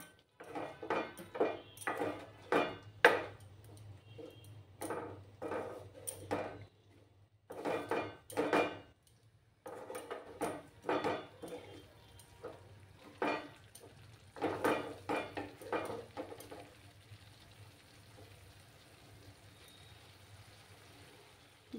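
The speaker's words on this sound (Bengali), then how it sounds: "এবার ভালো করে নাড়াচাড়া করব" A spoon scrapes and clinks against a pan while stirring a dish containing cashews. The irregular clusters of close, quiet metallic knocks come with short pauses between them.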